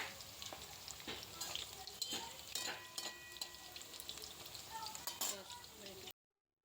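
Chicken pakoras fry in a pan of oil with a steady, close sizzle, broken by stirring scrapes and a few light clinks of a utensil against the pan.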